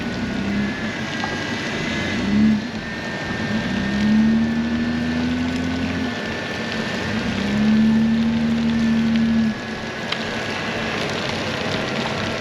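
An off-road vehicle working through mud or clay lets out a loud, close engine drone that swells and rises in repeated revs before dropping back, with no voices over it.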